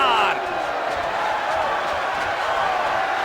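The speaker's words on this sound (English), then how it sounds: "You can hear the crowd roar." Arena crowd noise roars steadily at a video game boxing match between Pacquiao and Hagler, a dense continuous wash of voices with a brief louder burst at the start and no clear single calls.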